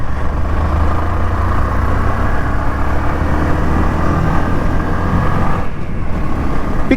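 A 2025 Bajaj Platina 110 FI motorcycle with a 110cc engine and four-speed gearbox, heard while riding: a loud, steady engine drone with constant wind rush and no break across the stretch.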